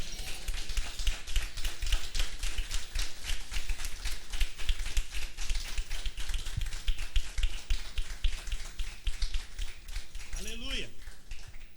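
A church congregation claps together during a Portuguese-language service, a dense, steady patter of many hands filling the room from start to finish, with a brief voice near the end.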